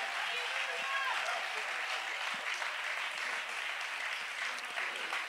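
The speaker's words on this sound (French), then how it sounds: "Acclame bien fort le Seigneur" A church congregation applauding, dense sustained clapping from many hands filling the room evenly throughout, with a voice over it.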